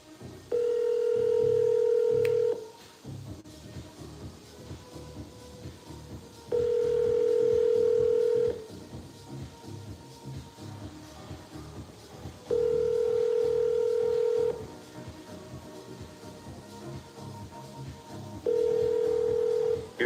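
A phone call's ringback tone sounds in four evenly spaced long beeps, about two seconds on and four off, with quiet line noise between them.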